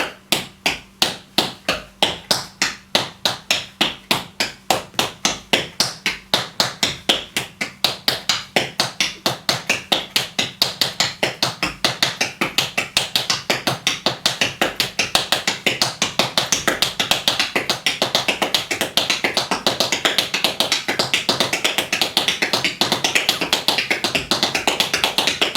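Rapid tap dance speed steps starting on the right foot, with crisp metallic taps that begin slow and evenly spaced and steadily accelerate into a dense, continuous stream of clicks, close and loud with no talking.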